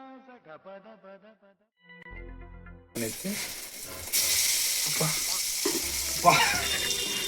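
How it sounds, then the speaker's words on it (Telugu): Vada batter goes into hot oil. After a few seconds of voices, a sudden loud, close sizzle erupts and keeps hissing, with splattering oil crackling near the end. "నూనె ఎగిరింది"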